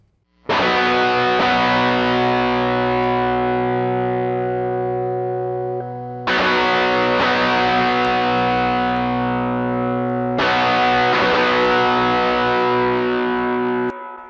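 Three long sustained distorted electric guitar chords through a Black Rooster Audio Ro-Gold reverb plugin, each struck and left to ring with a wide reverberant tail, played alone.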